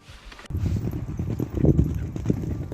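Horse hooves clip-clop in a quick, rhythmic trot on firm ground, close by, starting abruptly and continuing steadily.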